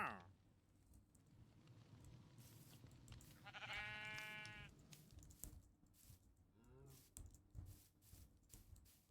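A Minecraft sheep gives a single soft bleat amid low, busy game background noise, with another faint call later; no voices.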